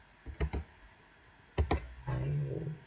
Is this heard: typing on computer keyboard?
yes